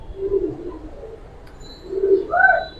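Giribaz pigeons coo in soft, low rounded calls, two close bursts separated by a short pause, with no talk over them.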